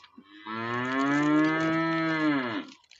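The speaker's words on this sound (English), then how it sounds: "the cow has something to say" A cow gives one long, loud, close moo lasting about two seconds, with a rich harmonic drone that dips at the end.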